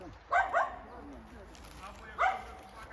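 A hunting laika dog barks a few times, a quick double bark and then another, moderately close, with some voices in the background.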